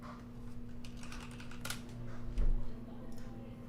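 Someone types on a computer keyboard for Discord, soft quick key clicks in an irregular patter over a steady electrical hum, with one louder thump partway through.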